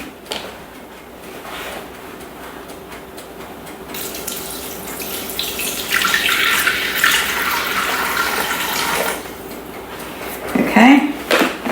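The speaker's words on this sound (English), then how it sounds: "Now this is just water out of the hot water tap." Hot water running from a kitchen tap into a Thermomix bowl, a steady rushing stream that swells louder midway, with someone talking before it starts and a brief clunk near the end.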